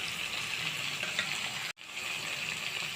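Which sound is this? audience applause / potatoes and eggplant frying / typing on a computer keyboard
potatoes and eggplant frying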